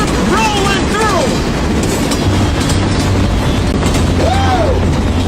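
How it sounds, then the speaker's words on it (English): A train sound effect rolls through on a sports talk radio broadcast, loud and continuous with rumbling clickety-clack and a few rising and falling whistle-like tones. "Oh my goodness, the Sox train is rolling through"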